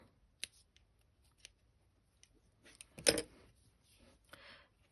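Scissors snip a short length of red twine at a craft table, a few quiet, sharp cuts spaced apart over near silence.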